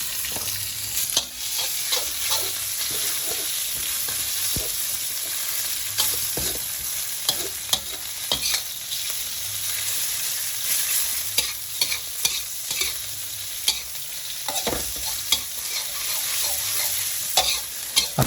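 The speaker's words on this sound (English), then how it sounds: "Then you put some pork minced, and fry it well" Minced pork frying in a pan, a constant bright sizzle with repeated clacks and scrapes of a spatula stirring the meat, close up with no talking.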